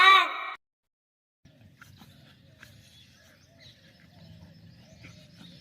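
A dog gives one loud, close bark at the very start of a children's alphabet song, followed by quiet, low background rumble.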